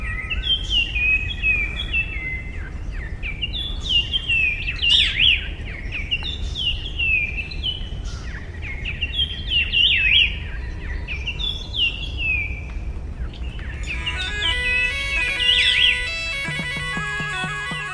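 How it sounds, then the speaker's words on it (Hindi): Birds chirp repeatedly in short, bright trilling phrases, fairly close, over a soft steady background hiss with no talking. "इस सब में मीठा संगीत बनकर आती हैं चिड़ियों की चहचहाहट"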